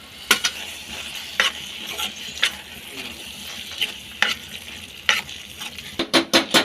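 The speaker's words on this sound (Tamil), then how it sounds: "எல்லா சிக்கனும் ஆட் பண்ணி நல்லா மிக்ஸ் பண்ணி விட்டுடுங்க." Shredded chicken sizzles and fries in oil for an egg chicken bhartha while a spoon stirs it, sending repeated scraping knocks against the pan over a steady crackle, close and loud with no talk.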